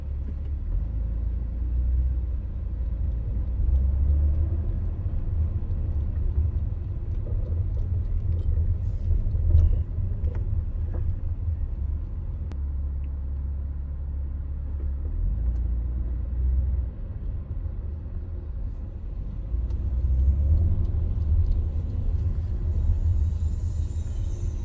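Low, steady engine rumble and drone from inside a car with a straight-pipe exhaust, end mufflers closed, cruising with a constant heavy low hum that swells slightly in places.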